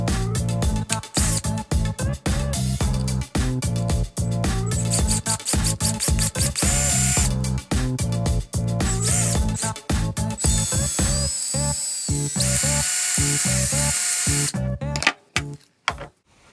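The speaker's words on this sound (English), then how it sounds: "I'm just going to drill straight through." A cordless drill with a 5/64-inch bit runs nearly nonstop in loud, uneven bursts, its whine rising and grinding as the bit bites through a metal spray gun part, then cuts out abruptly near the end.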